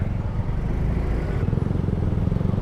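Manual-transmission car engine under way on a test drive, a steady loud low rumble with a throbbing pulse that continues without a break.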